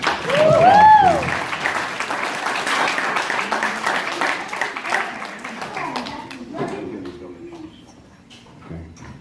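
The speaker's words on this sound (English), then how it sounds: "let's give them a round of applause, please" Applause from a banquet audience at a Mohawk Valley Challengers event, loudest at the start and tapering off gradually, with a whistle-like tone early on and voices murmuring through the clapping.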